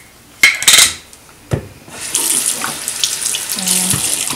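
A tap runs water onto a makeup sponge at a sink, preceded by a few clinks and knocks, then a steady close splashing stream that holds for the last couple of seconds.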